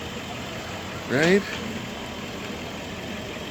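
A 1941 Buick Century two-door coupe's Fireball valve-in-head straight-eight with two carburetors idles in a low, steady hum, while someone speaks one brief word over it.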